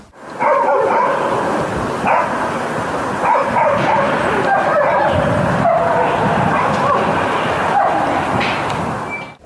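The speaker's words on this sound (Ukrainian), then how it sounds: "Сергій Писаренко разом з напарницею німецькою вівчаркою здають іспит" A German shepherd barks and yips excitedly again and again, close and loud, over a constant noisy background, during mine-detection service dog training.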